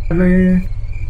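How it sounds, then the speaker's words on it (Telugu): Crickets chirp in a sustained, steady trill for about half a second, loud and close, then stop abruptly, leaving a low background rumble in the scene of a comedic horror short film. "కాదు ఆ క్రికెట్ సౌండ్ ఎందుకు"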